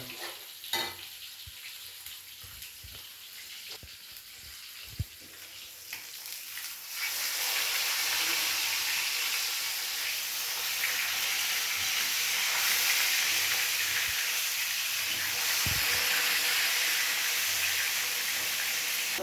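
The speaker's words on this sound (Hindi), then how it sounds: "फ्राई कर ही रहा है, अभी ग्रेवी करना है इसका।" Fish sizzling as it fries in a pan at home for a fish curry, a steady loud hiss that swells after a few seconds, with occasional clinks of utensils.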